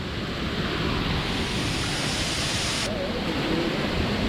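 Steady rushing water roars from the Badigunta waterfall near Rampachodavaram, a broad continuous wash of sound without pauses, close and full, with a faint breezy hiss over the top.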